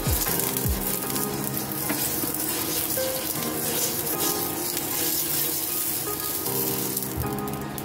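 Amboli batter on an oiled pan, giving a loud, continuous sizzle and crackle close up that holds steady throughout, with a couple of faint knocks at the start.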